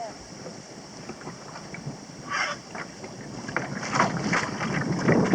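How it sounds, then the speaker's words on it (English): Wind blows across a kayak paddled on Clear Lake, a steady rushing gust with water splashes and paddle strokes, rising louder toward the end, with no talking. "The wind is pushing me into the shore here."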